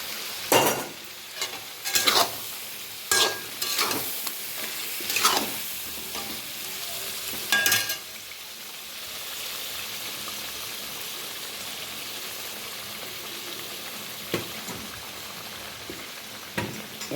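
Tomato paste frying in a pan for a chicken dum curry, with a steady sizzle and repeated scraping stirs in the first half, then a quieter sizzle with occasional spoon strokes.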